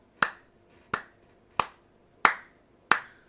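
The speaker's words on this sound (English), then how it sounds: "Who can applaud Shorty with me?" Five separate sharp hand claps from one person, spaced about two-thirds of a second apart, each crisp and close with a quick decay, alone without talk.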